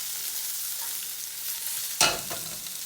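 Potato and chorizo frying in a pan, a steady close sizzle with a sharp burst of spattering as the food is stirred or turned partway through.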